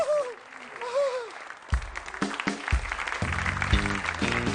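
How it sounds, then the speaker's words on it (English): A live audience bursts into applause after a performer's line, loud sustained clapping filling the room for the rest of the moment, with a voice heard talking over the start. "This is the big applause cue."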